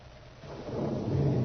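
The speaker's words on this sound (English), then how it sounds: "We're going to be fighting the storm pretty quick." Thunderstorm effect in an old radio drama, a low rolling thunder rumble swelling from faint to louder over a steady rain-like hiss, no voices.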